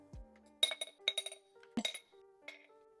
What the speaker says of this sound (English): So these are some ice cubes, but with purple glitter.